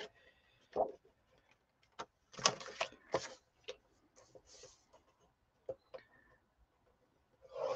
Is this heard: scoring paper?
yes